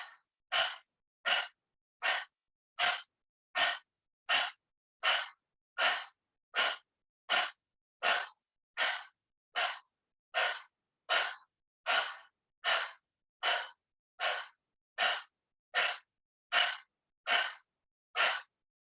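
Forceful, sharp exhalations from a yoga breathing exercise with abdominal contractions, about twenty-two evenly spaced breathy bursts in a steady rhythm, close and loud, with no talking.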